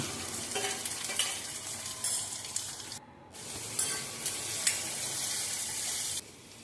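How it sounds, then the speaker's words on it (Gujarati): Tomato, chilli, capsicum and onion stirred and frying in a pan for upma, a steady close sizzle with scraping stir strokes throughout and a brief pause midway. "એમાં ટામેટાં મરચું કેપ્સિકમ અને ડુંગળી નાખી હલાવવાનું"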